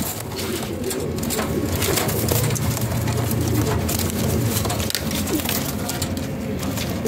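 Pigeons coo repeatedly in a low, steady murmur at a pigeon market stall, with constant background hiss and faint rain-like noise throughout.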